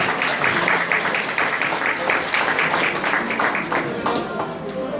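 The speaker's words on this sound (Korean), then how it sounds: "네, 계속해서 박수로 함께 해주시기 바랍니다." Wedding guests applaud steadily in a hall, a dense wash of clapping that carries evenly through the whole stretch, with voices murmuring underneath.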